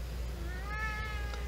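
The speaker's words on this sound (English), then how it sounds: "Meow." A cat gives a single drawn-out meow, close and clear over a steady low background hum.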